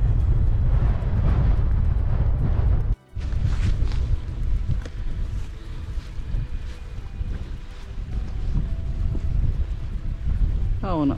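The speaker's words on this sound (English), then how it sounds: "it's getting windy and cold now." Strong winter wind batters an open hilltop near Whernside Tarns, a continuous loud roar that buffets the microphone, drops out for a moment, then returns in gusts.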